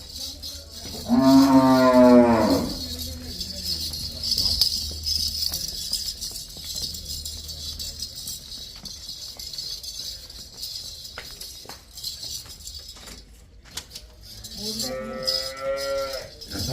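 Two cow moos on a dairy farm, one low drawn-out call near the beginning and a shorter one at the end, with faint clinking and background noise between.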